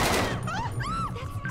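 Gunfire in a FiveM GTA V police roleplay shootout at a nightclub, a loud close burst of rapid shots filling a short moment, with whistling tonal game sounds sweeping over it.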